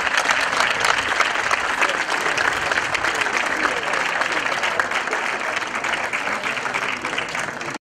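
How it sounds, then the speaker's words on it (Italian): Sustained applause from a crowd at an amphitheatre inauguration in Roccabernarda, dense, steady clapping that stays loud and even for several seconds before it stops abruptly. "Applauso. Applauso."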